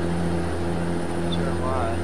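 Truck engine droning at high revs, about 1500–1700 RPM, in American Truck Simulator while hauling a load; a steady, loud tonal hum runs throughout with a voice talking over it.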